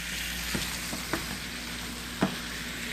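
Steak pieces sauté in a pan over medium-high heat with a soft, continuous sizzle and a few light spoon clinks, heard close and alone.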